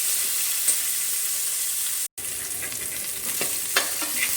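Sliced large onions frying in hot oil in a pan while being stirred, a loud steady sizzle with scraping stir strokes, briefly cut off midway.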